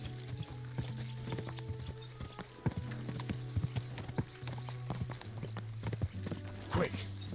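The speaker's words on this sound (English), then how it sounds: "Maybe Pebbles is just the best horse around." A horse gallops in a race in the video game Kingdom Come: Deliverance II, with rhythmic hoofbeats, mechanical clicks and a brief whinny, while someone talks over it throughout.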